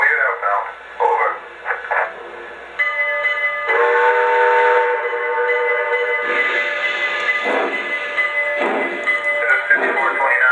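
Lionel Empire State Express model train pulling out: sustained whistle-like tones and a rolling hum, fairly close, under radio-style voice chatter.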